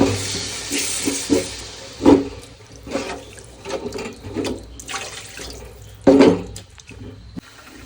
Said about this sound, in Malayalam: ആവശ്യത്തിന് വെള്ളം